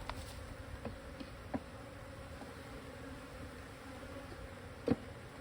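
Bees buzz faintly but steadily during a hive transfer of a split into a new hive, a continuous soft droning hum with a few brief individual passes flying close by.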